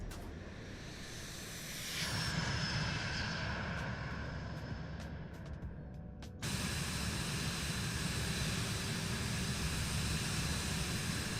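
A Vision Jet G2 does a flyby in Microsoft Flight Simulator 2024. It makes a steady broadband jet roar that swells abruptly at about two seconds, drops back, then jumps up again and holds loud to the end.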